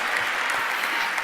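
Brief, dense applause from an audience at a company all-hands meeting, many hands clapping at once in a steady, loud wash.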